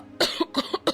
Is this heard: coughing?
yes